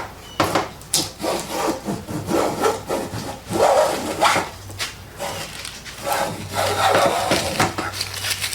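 A hand plane with an autoset blade cuts through wood in resaw mode, making a series of rasping, rubbing strokes, close and fairly loud, with short pauses between passes.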